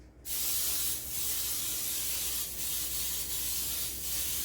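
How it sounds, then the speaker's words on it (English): A steady, continuous hiss of cooking spray coating cake pans runs for several seconds, close and fairly loud, with slight pulses as the can is moved. "I'm just going to spray down my pans,"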